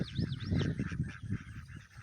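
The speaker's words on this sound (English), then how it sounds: "There's the ducks" Ducks quack and chatter together nearby, a busy cluster of nasal calls over low outdoor noise.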